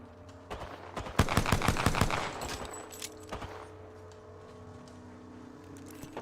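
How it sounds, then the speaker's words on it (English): Enemy gunfire in Apex Legends during an Arena match: a dense burst of rapid automatic shots peaks early, then scattered single cracks and a quieter tail with game ambience. "They're shooting at me."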